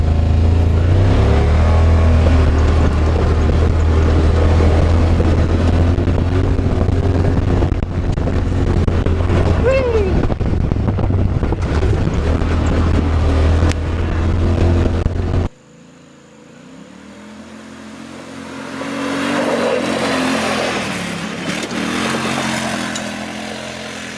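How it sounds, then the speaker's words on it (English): The 850cc engine of a Yamaha Wolverine X4 side-by-side roars loudly and steadily in high gear with heavy wind buffeting, then drops away and rises again as it accelerates. "you hit the throttle, and that 850cc engine just kicks in and takes off."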